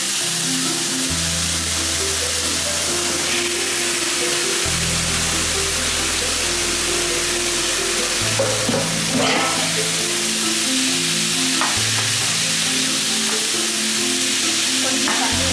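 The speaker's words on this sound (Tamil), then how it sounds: "எடுத்து அங்கே போட்டு நான் 1/2 kg சிக்கன் போடுறேன்." Half a kilo of chicken sizzles and fries in a pan with sautéed onions, a loud continuous hiss and crackle with occasional stirring, alongside a steady low musical drone.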